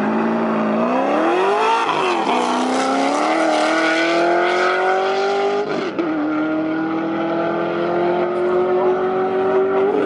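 Corvette and Tesla Model S Plaid drag racing, a loud engine note climbing steadily through gear changes with brief dips between shifts, sustained and close for the whole run.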